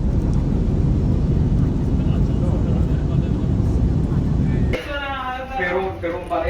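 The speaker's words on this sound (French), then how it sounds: "On a atterri, ça y est." Inside an airliner landing in Osaka, a loud steady cabin roar from the engines and airflow fills most of the time, then cuts off abruptly and gives way to a quieter interior with people talking.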